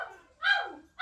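Pet dogs in a home bark as someone arrives: two sharp, close, loud yelps, the second cut short at the end, with no talking.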